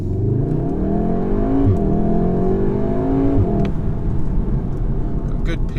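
VW Golf in race mode with manual shifting and traction control off, accelerating with a rising engine note through two gear changes, loud and close from inside the cabin.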